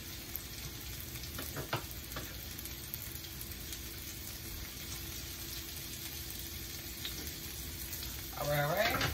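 Red onions and bell peppers fry in a pan with a continuous sizzling crackle and occasional stirring scrapes, turning noticeably louder and busier near the end as the food is stirred.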